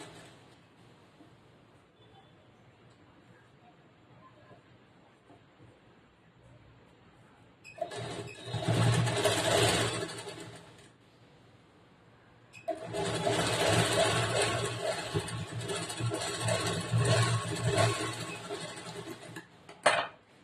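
Sewing machine stitching a blouse with a boat-neck back and dori tie, running in two bursts, one short and one longer, with quiet pauses between them and no talk.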